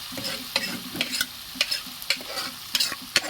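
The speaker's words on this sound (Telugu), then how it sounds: "పక్కన పెట్టుకున్న పాలకూర వేస్తున్నానండి. ఇలా కలిపేసుకున్నామండి." Cooked spinach is stirred into a potato curry in a pan, with repeated sharp spoon scrapes and clicks over a faint, steady sizzle.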